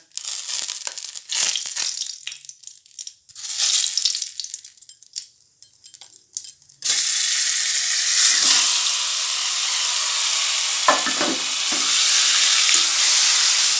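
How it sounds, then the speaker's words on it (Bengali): Carom seeds and grated green peas fry in ghee in a kadai; scattered crackles and stirring scrapes give way halfway through to a steady, loud, close sizzle that runs on with no talking. "জোয়ানটা একটু ঘিয়ের মধ্যে ভাজা হয়ে গেলে তারপর দিয়ে দেব কড়াইশুঁটি, গ্রেট করা কড়াইশুঁটিটা।"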